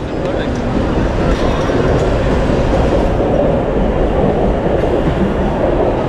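Passenger train pulling into a station near Panvel, a loud steady rumble of rail cars and wheels filling the whole stretch, with faint voices of people on the platform underneath.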